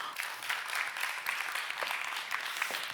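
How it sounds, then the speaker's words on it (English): An audience at a symposium applauds steadily, a dense wash of clapping hands that holds at an even level for the whole stretch, somewhat distant and without talk. "A big round of applause for Nikki Kluskens."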